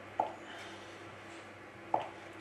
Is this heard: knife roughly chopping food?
yes